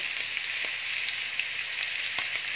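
Adobong goya (bitter gourd adobo) fries in a pan while being turned, a steady close sizzle with a few faint scraping stirs and brief pops.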